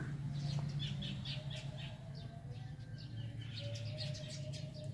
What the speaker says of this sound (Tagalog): Daming ibon sa labas.